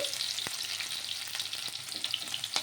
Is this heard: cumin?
yes